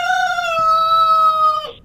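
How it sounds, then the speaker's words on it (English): A Red Rooster promo sound: a single loud rooster crow, drawn out and slightly falling in pitch, heard alone and ending abruptly. "here is the Red Rooster announcement promo sound that I'm going to play each Saturday"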